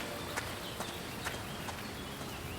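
Soft, irregular hoof clops of horses in the video game Anno 117: Pax Romana sound over a steady hiss of background noise, with no voices present.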